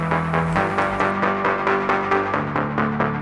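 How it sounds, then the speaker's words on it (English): Synth bass plays a steady, pulsing arpeggio with evenly repeated notes, shifting pitch every so often, heard within a full mix of a song. "Classic, just normal synth bass arpeggiation."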